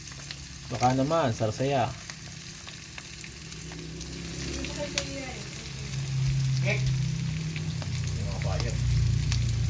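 Chicken gizzard adobo frying in a pan after oyster sauce goes in, a steady sizzle that swells louder toward the end, with people talking over it early on.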